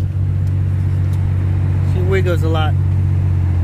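A car rolls along steadily on a road trip with two Boston Terrier dogs aboard, its low, constant engine and road rumble filling the cabin while someone speaks briefly over it.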